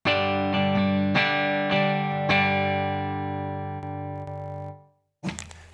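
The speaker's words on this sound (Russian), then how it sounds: "Вот так звучит чистый канал Пивика" Electric guitar through the clean channel of a Peavey 5150 amplifier into a cabinet, miked with a 421: several ringing chords strummed in sequence, the last left to sustain and fade, followed by a brief scrape.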